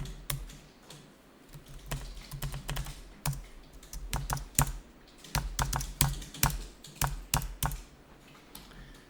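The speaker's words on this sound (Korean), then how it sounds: "F7을 누르거나 위에 있는 복수거래 눌러서 등산화 10개 10만원 입력합니다" Data being keyed into accounting software on a computer keyboard, with crisp clicking keystrokes in quick irregular bursts and short pauses, close and clear, no speech.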